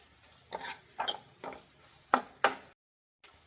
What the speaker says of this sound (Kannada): ಈರುಳ್ಳಿ ಎಲ್ಲ ಚೆನ್ನಾಗಿ ಫ್ರೈ ಆಗಿದೆ.